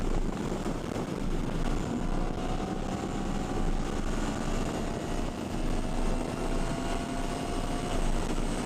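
A 2020 Yamaha MT-10 motorcycle fitted with an autoblip quickshifter roars steadily on a test ride, its engine drone and wind rush loud and close throughout, with a rising whine as it pulls hard.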